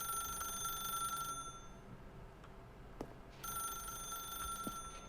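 An office telephone ringing in The Stanley Parable video game, a bright electronic trill sounding in two bursts with a short quiet pause between them, alone with no talking.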